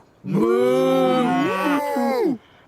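A cartoon cow gives a long, loud, wavering moo of about two seconds, rising and falling in pitch with rich harmonics, heard alone with no talk.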